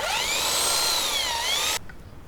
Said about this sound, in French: Puis perce.